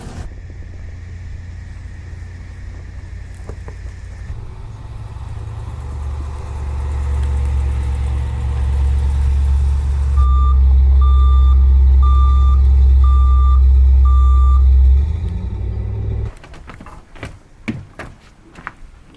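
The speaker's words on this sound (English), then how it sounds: "should probably move the truck first" Farm truck on a remote island idles, then revs and moves as a series of steady reversing beeps sounds; the engine cuts out near the end, leaving faint knocks and rustles.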